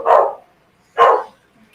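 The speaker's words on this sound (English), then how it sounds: "My dog is going crazy for some reason." A pug and Labrador mix dog barks twice, loud and close, with a short pause between the two barks and near silence around them.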